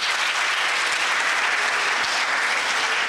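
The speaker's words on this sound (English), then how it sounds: "So you all deserve a round of applause for that effort." A crowd applauds steadily throughout, a dense, even wash of clapping from an audience at a debate competition final.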